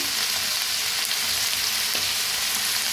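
Potatoes and peanuts fry in a hot pan while fasting-style potato bhaji cooks, giving a steady, close hiss and sizzle with faint stirring crackles throughout.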